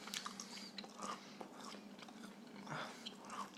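Someone chews tough, hard steak close to the ear, with wet biting and crunching mastication sounds coming in uneven bursts, quiet and intimate.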